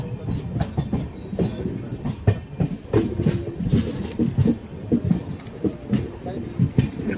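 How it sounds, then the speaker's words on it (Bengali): A Kolkata–Saraighat train pulls in at platform 2 of Kamakhya Junction station, its wheels clacking rhythmically over the rails with a rumbling carriage noise while a person talks over it. "কলকাতা সাইরান ট্রেন 2 নম্বর প্ল্যাটফর্মে এসে পৌঁছে গেল কামাখ্যা"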